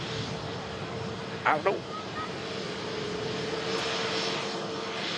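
An EasyJet Airbus A320neo taxis at an airport with a steady, broad engine roar that holds throughout. A voice speaks briefly near the start over the constant rumble.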